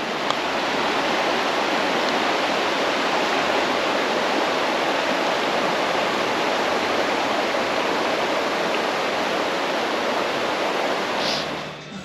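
Water from a rocky mountain stream in the Blue Ridge area pours on in a continuous, loud, even wash of rushing sound, nearby and alone, easing slightly only at the very end.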